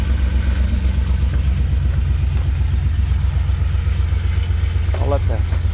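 A car with a modified exhaust and cam idles nearby in a steady low, throbbing rumble that holds even throughout, with a brief higher rev-like flutter near the end.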